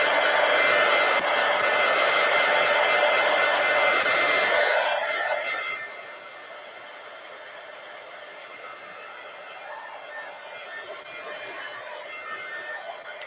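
A hair dryer blows on a watercolor painting with a loud, steady whooshing whir, then drops to a quieter, lower setting partway through and keeps running with no talking.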